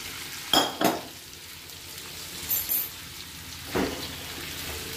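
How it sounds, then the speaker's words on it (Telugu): Baby potatoes go into hot oil and ginger garlic paste in a pan, giving a soft steady sizzle broken by a few sharp stirring scrapes and clinks of a spatula against the pan. "వేగిన తర్వాత ఇప్పుడు మనం పొటాటోస్ యాడ్ చేసుకుందాం"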